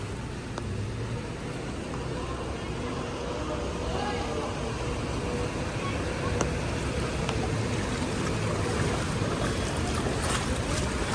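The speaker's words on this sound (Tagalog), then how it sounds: "Pag nagsabay-sabay yung daan ng mga sasakyan, grabe yung alon." Floodwater surging and sloshing as vehicles plow through a flooded Taft Avenue, a steady loud wash of water and engine rumble running throughout, with faint voices under it.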